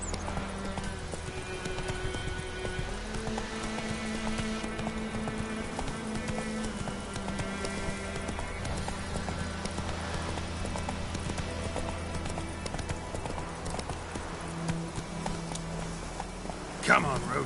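Roach, Geralt's horse in The Witcher 3, gallops with a continuous run of hoofbeats over a bed of game music and ambience, with voices speaking over it.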